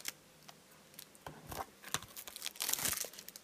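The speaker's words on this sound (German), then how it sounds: "machen wir die Folie erstmal schön auf" Plastic shrink-wrap being peeled and torn off a Disney Blu-ray case, heard close and fairly quiet as irregular crinkling and tearing bursts that grow busier toward the end.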